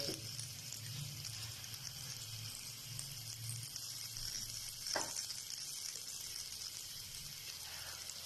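Dahi bara lentil fritters fry in hot oil with a soft, continuous sizzle and a few faint bubbling pops, quiet and steady throughout.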